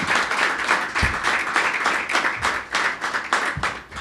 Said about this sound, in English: these gentlemen and the teams that have worked with them deserve a round of applause